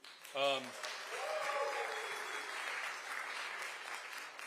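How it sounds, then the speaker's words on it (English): A brief voice opens, then an audience at a keynote presentation breaks into steady applause that carries on evenly to the end, moderately loud and fairly close. "One more round of applause for Greg."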